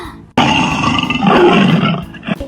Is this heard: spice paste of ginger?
no